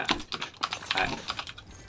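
Computer keyboard typing during PC gameplay, a quick run of clattering keystrokes in uneven bursts, fairly close and moderately loud, with no voice over it.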